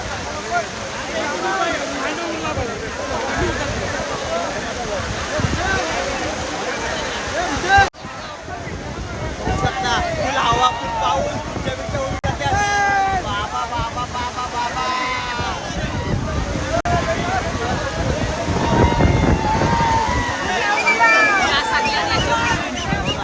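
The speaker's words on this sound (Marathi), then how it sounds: "वारा बघा तुफानी वारा तुफानी पावसाची वाट लावली मैदानाची" Strong stormy wind buffets the microphone at a waterlogged bullock cart race ground during heavy rain, a loud constant roar and rumble with a crowd murmuring and someone talking throughout.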